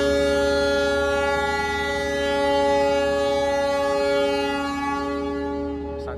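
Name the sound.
Sancaka train departing from station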